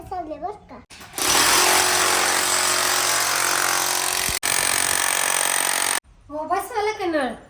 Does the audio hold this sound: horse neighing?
no